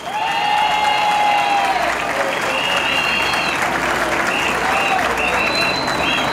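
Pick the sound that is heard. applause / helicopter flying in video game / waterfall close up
applause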